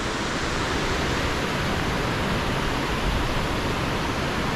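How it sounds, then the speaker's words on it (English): Paine Falls waterfall in Painesville, Ohio, a dense, steady roar of rushing water that fills the whole span at an even loudness, with no voices. "I am super impressed by this waterfall"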